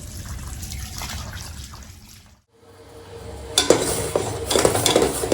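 Cut fish pieces being rinsed and washed by hand in water, with close sloshing, splashing and trickling that pauses briefly and then returns louder and more vigorous.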